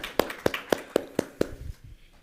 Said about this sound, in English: Round of applause to one of my mentors